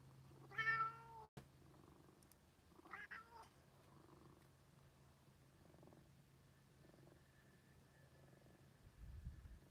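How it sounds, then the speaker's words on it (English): A neighbour's cat purrs softly in a low, steady rumble that runs through the quiet scene, broken by a few short meows near the start. "I haven't even touched you yet. You're already purring."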